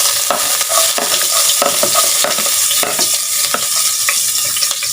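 Ginger sizzles as it is sautéed in a pan for lugaw, a steady bright crackle broken by repeated scraping stirs of the utensil, close and fairly loud with no voices.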